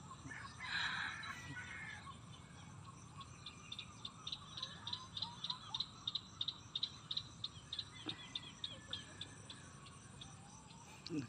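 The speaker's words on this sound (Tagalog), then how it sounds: "Nakapagpakain na ako ng manok." Chickens cluck in a steady run of short, regular calls with a rooster crowing among them, at a faint, rather distant level outdoors on a small farm.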